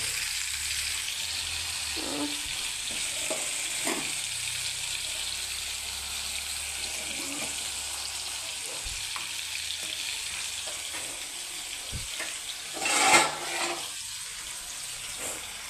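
Paneer frying in hot oil, a steady bright sizzle throughout with faint knocks and clinks of a utensil and one brief louder splutter toward the end.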